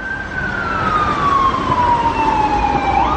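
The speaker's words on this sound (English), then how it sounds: "as I try to talk over this ambulance" An ambulance siren passes along a Baltimore street, a loud wailing tone that slowly falls in pitch as it moves by, over the rumble of traffic.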